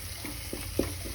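Onions and tomatoes frying in a pan over a medium flame for masoor dal fry, a soft steady sizzle with a few light stirring scrapes, close and fairly quiet, no talking.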